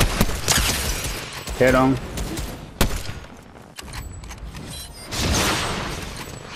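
Rapid bursts of video game gunfire crackle up close in the first half and return near the end, with a player's voice talking over the shots.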